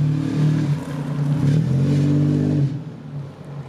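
A 1996 Toyota 4Runner with a 3-inch suspension lift and disconnected sway bars, driven in circles: a steady, fairly loud mid-pitched engine drone that holds for a few seconds, then eases off and fades.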